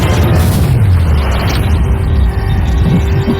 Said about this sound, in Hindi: पटाखे फूटने वाले हैं